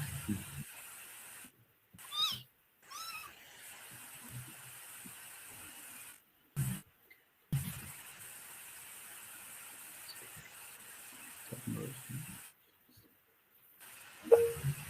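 A very young hungry kitten, about five or six weeks old, gives a few short, faint meows between quiet pauses, close by in a calm indoor room.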